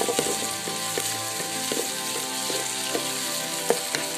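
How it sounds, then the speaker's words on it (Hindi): Garlic sizzles steadily in hot oil in a pan for a restaurant-style soya chaap masala, with a spatula scraping and clacking at irregular intervals, close and continuous with no voices. "लहसुन डालेंगे और इसको लहसुन को अच्छी तरह से मिक्स कर लेंगे"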